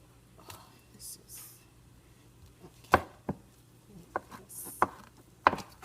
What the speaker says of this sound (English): cut them off into small pieces, and then you can peel the skin off